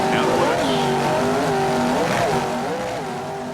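Offshore powerboats racing at the Daytona Harley-Davidson Offshore Grand Prix, one engine note held loud and steady as its pitch climbs and dips, with a commentator's voice running over it.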